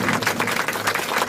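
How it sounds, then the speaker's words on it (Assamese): Short burst of audience applause, a crowd clapping steadily at moderate volume for a moment. "তেওঁৰ বাবে এটা জোৰদাৰ হাত চাপৰি হ'ব লাগে"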